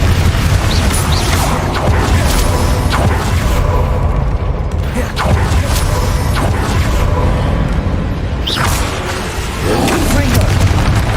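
Confringo spell blasts in the Hogwarts Legacy video game thump and rumble repeatedly amid a loud, busy wash of battle noise, with mechanical clanks and voices woven through.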